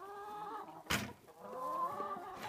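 Hens on a farm cluck and chatter with layered, repeating calls over about two seconds, broken by a short, sharp burst of noise near the middle.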